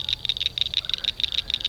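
Frogs near a small farm pond give rapid, evenly pulsed high croaks, a close and steady chorus with no talking.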